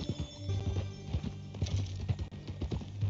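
Horse hooves clip-clop in the Red Dead Redemption video game, in an uneven, close rhythm of soft thuds beneath low tonal hums from game ambience.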